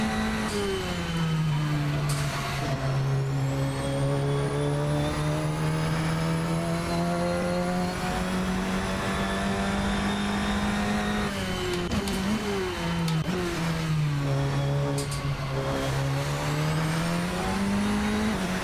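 Radical SR10 XXR8 race car in Assetto Corsa, its engine holding a loud, steady drone with pitch rising and falling through gear changes, continuous and close throughout with no talk over it.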